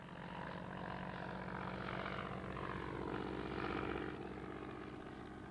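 The Spirit of St. Louis, a small specially built propeller plane whose fuselage is one enormous fuel tank, drones with a steady, rough engine hum that stays even and fairly faint throughout.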